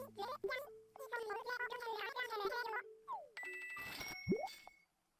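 Animal Crossing: New Leaf plays chirpy babbling character voices, followed by a bright cluster of ringing chime tones for receiving bells and a short sliding blip before it falls silent.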